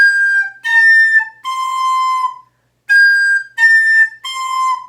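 Shrill, piercing whistle-like tones from a recorder blown too hard, played loud in several sustained phrases with short gaps, close and harsh.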